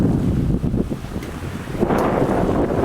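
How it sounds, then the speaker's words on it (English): Strong wind blows over choppy water while paddling near an island, a heavy, steady rumbling gust buffeting the microphone with the wash of water beneath, loud and close. "And there's the wind we're paddling with. Got pretty breezy the second day here"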